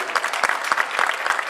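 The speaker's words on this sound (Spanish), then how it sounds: "El aplauso para el Beto" Audience applause at a competitive and recreational boxing clinic in Caseros, a short burst of scattered claps with a few louder individual hits, moderately close and with no voices.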